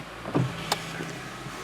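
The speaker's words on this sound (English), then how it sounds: "These are the electric window switches. They're auto down and up if you push them for longer, like this." Electric window motor of a 2008 Vauxhall Astra H hatchback whirring briefly inside the car, a faint short hum with a small click, fairly quiet overall.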